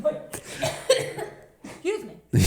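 Short bursts of human coughing, close and loud, mixed with laughter and breathy sounds, with talking around them in a casual chat.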